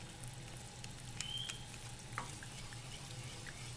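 Tomato sauce simmers in a pan over medium heat for pasta with smoked salmon, a quiet steady sizzle and soft bubbling with a few faint clicks and pops, no voices.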